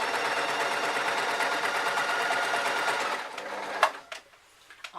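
A sewing machine stitches a shoulder band onto an elastic formal top, running in a fast, steady whir for about three seconds before slowing and stopping, followed by a few light clicks.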